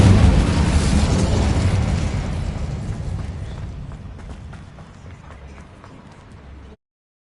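The Incendio fire spell bursts in Hogwarts Legacy as a loud, roaring blast of flame that gradually fades and crackles away over several seconds before cutting off.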